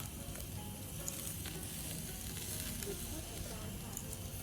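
Thai-style tiger cut beef marinated in oyster sauce sizzles loudly and steadily over a grill, a dense continuous crackle with small pops and no voices.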